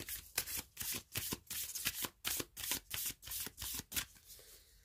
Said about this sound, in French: je vais tirer 2 cartes de l'oracle de la vision intérieure pour terminer ce tirage